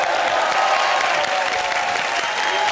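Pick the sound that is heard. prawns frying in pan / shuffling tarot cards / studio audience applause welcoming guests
studio audience applause welcoming guests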